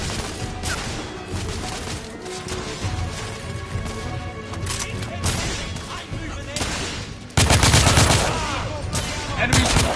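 Gunfire in a shootout in The Order: 1886 video game, dense and continuous bursts of automatic fire with heavier blasts, loud throughout, mixed with shouted voices.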